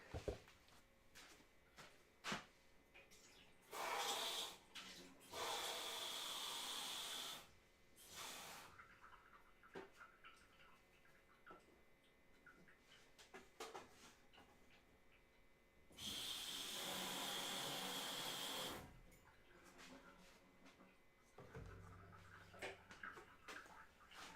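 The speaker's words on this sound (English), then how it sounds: "dump this dirty water since I want to make fresher color" Dirty watercolor rinse water is dumped out in two short pouring splashes, separated by quiet stretches of faint handling clicks and soft breathing.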